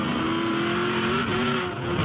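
V8 ute race cars at a circuit race in Adelaide, 2010 series, a loud, close engine roar with a steady high pitched drone and a brief tire squeal over continuous racing noise, no voices.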